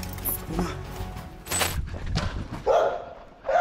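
A dog barks and yips in short bursts amid rustling and movement, fairly close, with a brief whimper-like tone near the end and no clear talk over it.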